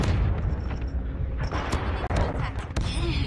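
A frag grenade exploding in a first-person shooter game amid a loud, dense firefight, with heavy booms and rapid gunshots overlapping throughout and players' voices under the din.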